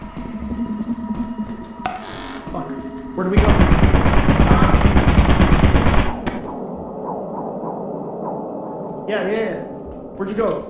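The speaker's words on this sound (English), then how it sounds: "Watch out for turrets, watch out for turrets, watch out for turrets." Turret gunfire in the Lethal Company video game, a loud sustained burst of rapid machine-gun fire lasting a few seconds, with voices talking before and after.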